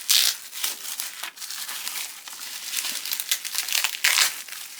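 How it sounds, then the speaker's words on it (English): Wrapping being torn open from a birthday gift package of adult colouring books and pencils. Loud, close, continuous crinkling and rustling of paper or plastic, with no talk. "so exciting, all the unwrapping."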